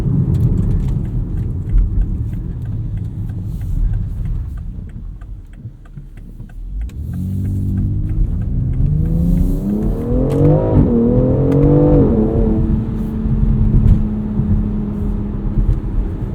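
A 2020 BMW X4 M Competition accelerates hard from inside the cabin, its engine note dipping then climbing in rising revving sweeps through several gears, loud and close with a steady low drone underneath.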